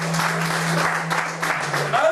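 A church congregation at a French-language prophetic worship service applauding and cheering for Jesus, a dense crowd roar with clapping throughout, over a steady low hum.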